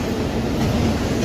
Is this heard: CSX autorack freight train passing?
yes